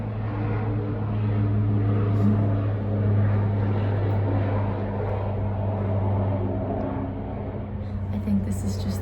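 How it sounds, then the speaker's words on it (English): An airplane flying overhead in Alaska makes a steady, fairly loud drone that fills the whole stretch, with a low hum holding constant throughout. "I'll pause for airplane again."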